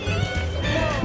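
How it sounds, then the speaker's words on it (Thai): Horse hooves and a neigh from a horse-drawn carriage at Swiss Sheep Farm, heard close and steady under continuous people talking across the whole clip. "เดี๋ยวเราก็นั่งรถม้าดูบรรยากาศรอบๆฟาร์มกันก่อน"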